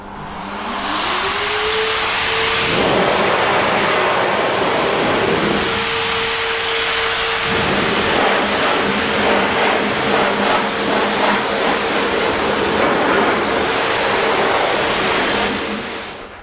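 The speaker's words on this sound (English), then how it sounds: "I will actually just grab my car dryer." A car air dryer blows over a car's paint in a loud, steady roar that holds for the whole stretch, with a rising whine at the start and small shifts in pitch as it moves.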